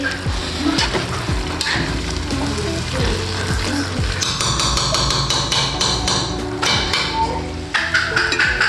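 Food with chili fries in hot oil on a stove, a dense, close sizzle punctuated by repeated metallic clanks and scrapes of a utensil against the pan.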